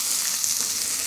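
Food sizzles and fries hard in a pan over a strong flame in a camp kitchen, a steady dense hiss that stays loud and close throughout with no talk.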